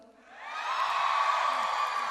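An audience on a Filipino TV variety show swells into loud shouting and cheering, rising quickly and then holding as a dense, sustained roar.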